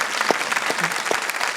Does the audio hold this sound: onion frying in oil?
no